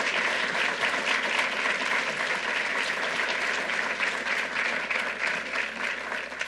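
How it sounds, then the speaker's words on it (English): Audience applause at a gun safety announcement by Governor Kathy Hochul, a sustained, even wash of many people clapping at moderate loudness for the whole stretch, with no voices over it. "let's give them a really special round of applause"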